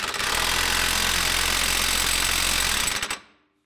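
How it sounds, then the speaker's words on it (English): An impact wrench hammers on a Subaru Legacy rear axle nut in one steady, loud, rattling burst lasting about three seconds, then cuts off. "Now we'll reinstall our axle nut. Get your impact and give it like 30 ugga uggas."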